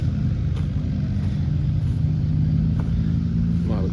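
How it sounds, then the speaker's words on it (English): Small McCormick hit-and-miss engine running at a steam-era show, a steady low rumbling chug with regular pulses, fairly close and continuous, no talking. "There's a nice little McCormick engine right there."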